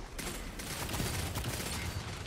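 Rifle gunfire in a space-themed video game, a dense, continuous crackle of shots filling the whole stretch at steady loudness with no clear pauses.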